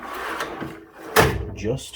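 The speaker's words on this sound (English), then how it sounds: "Okay, close that drawer up." A tool chest drawer is shoved shut with a quick sliding rumble and a sharp closing clack, heard close and mixed with a person talking.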